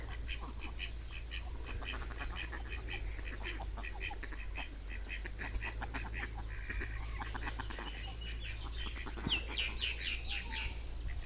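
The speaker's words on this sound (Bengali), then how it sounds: "হাঁসগুলো একবার পানিতে নামে না গোসল দেয় সাঁতার কাটে কাটে আবার উপরে চলে আসে" Ducks quack in steady, overlapping bursts from a flock bathing and swimming in water on a farm, the calls moderately distant over a continuous low hum.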